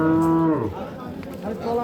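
A dairy cow with a heifer calf at a village cattle market lows once, a loud, close, drawn-out moo that falls in pitch, followed by faint background murmur.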